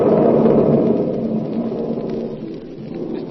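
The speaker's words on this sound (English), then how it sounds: "The storm had not abated outside." Steady heavy rain with rolling thunder outside during a storm, loud and continuous at first and easing slightly, with no voices over it.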